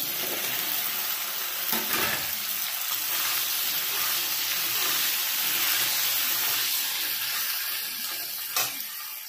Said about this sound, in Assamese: এতিয়া মই তেলতে ভেন্দিখিনি ফ্ৰাই কৰি লওঁ।